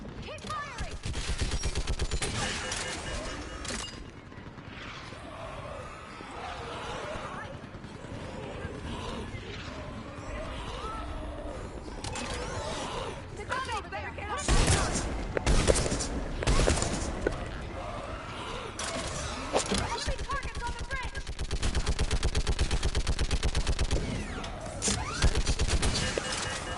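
Sustained gunfire in the sci-fi shooter game Mass Effect Legendary Edition, dense overlapping shots and bursts with crashes and vehicle noise, loud throughout with faint voices now and then.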